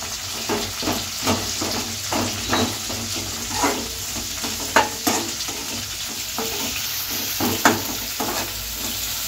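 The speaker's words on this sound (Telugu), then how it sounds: "ఉల్లిపాయలు కూడా మనం కచ్చపిచ్చగా వేపుకోవాలండి" Long-sliced onions frying in a pan for a buttermilk rasam, with a steady close sizzle and regular scraping stirs from a spoon.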